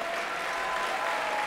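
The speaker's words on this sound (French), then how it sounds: "Applaudissements pour ce jeune homme" Studio audience applause for a young male contestant on a French TV game-show segment, a steady, dense wash of clapping from many hands held at an even level throughout, with no voices over it.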